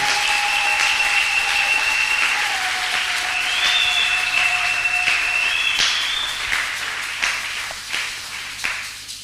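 A church congregation applauds and cheers in praise, sustained loud clapping filling the room while a high sustained tone rings above it, the applause thinning into scattered claps toward the end.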